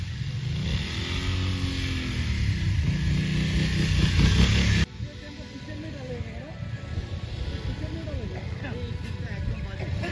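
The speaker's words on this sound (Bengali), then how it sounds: "আর এখন হচ্ছে বিএমডাব্লিউ, ওদিকে হচ্ছে স্নেহাসিস, এই দাওয়াটার নাম জানি না, দুজনেই অ্যাডভেঞ্চার বিএমডাব্লিউ বাইক নিয়ে আছে।" BMW adventure motorcycles performing stunts on a beach, their engines revving and rising in pitch up close for several seconds before cutting off, followed by fainter engine noise behind people talking.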